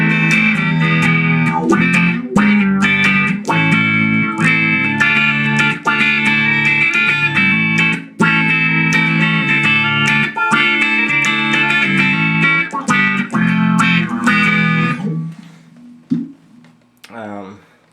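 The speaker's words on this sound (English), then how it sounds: "An auto wah." Electric guitar played through the auto wah effect of a Vox VT20+ modelling amp, loud and continuous riffing with a sweeping filtered tone for about fifteen seconds, then a few softer notes fading out alone.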